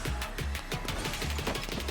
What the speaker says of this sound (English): God, I forgot about the squid cannon.